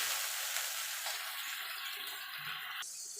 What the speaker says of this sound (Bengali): একটা টমেটো দিয়ে দেবো, সামান্য একটুখানি জল দিয়ে দেবো, দিয়ে মশলাটাকে একটুখানি কষিয়ে নেব